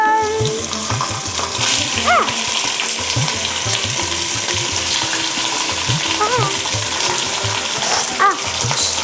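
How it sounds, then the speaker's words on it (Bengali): Mutton frying with whole garam masala spices and salt for a mutton potato curry, a steady close sizzle with repeated stirring scrapes and brief squeaky tones over the constant crackle. "গোটা মশলাগুলোর সঙ্গে নুন দিয়ে মাটনটাকে ভালো করে আগে ভেজে নেব।"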